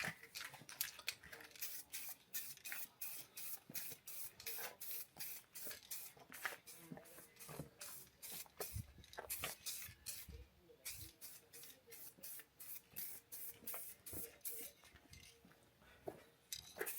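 Aerosol can spraying 1K clear coat varnish onto a car body kit for a Nissan 100NX, a rapid series of short hissing bursts with faint clinks, close and steady throughout.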